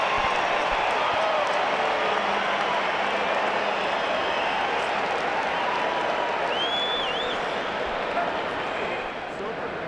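A large crowd at the Vancouver rugby festival cheers in a dense, continuous roar of voices and applause after Canada's women score a try, loud and sustained, with a whistle rising briefly above the din.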